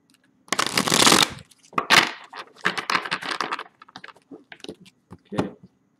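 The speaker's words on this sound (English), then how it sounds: "let's get one more shuffle and we'll see what's going on with you" A deck of tarot cards being shuffled by hand, a long riffling burst followed by a series of shorter crisp shuffles and taps, close and alone without talk.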